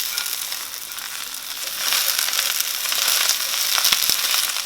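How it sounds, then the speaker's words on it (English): Loud, close sizzling and crackling of green beans sautéing in a hot pan, a dense continuous hiss that intensifies partway through, with no voices. "So we're going to saute these for another 5 minutes"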